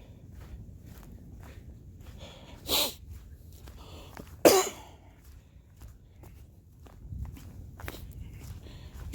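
Someone walking on a backcountry trail coughs twice, sharp loud bursts a couple of seconds apart, over quiet footsteps and soft rustling.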